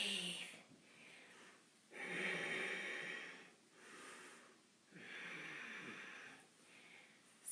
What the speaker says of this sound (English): Strong, deep, full, cleansing breaths.